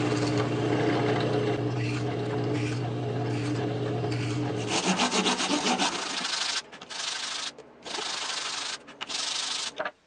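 Plywood being cut into 8 cm circles for a belt sander drive pulley, a steady machine hum giving way to loud, rough rasping and sanding bursts with brief pauses between passes.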